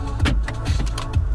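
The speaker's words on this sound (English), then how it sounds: "Your electronic central lock." Electronic central locking on a 2016 Lada XRAY 1.6 manual actuating inside the cabin, giving three short mechanical clunks spaced evenly over a continuous low hum, close and fairly loud.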